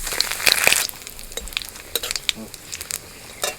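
Cumin, dried chilli and bay leaf sizzle in mustard oil and ghee, a crackling fry with scattered sharp pops and spits, loudest at the start then settling into lighter intermittent crackles close up.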